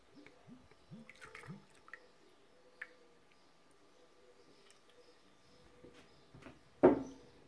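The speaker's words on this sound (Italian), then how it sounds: "Versiamo la panna." Cream is poured into a Thermomix bowl fitted with the whisk attachment, giving a few quick liquid glugs at first, then quiet drips and small taps, and a sharper knock near the end.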